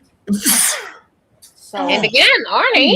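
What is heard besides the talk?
sneeze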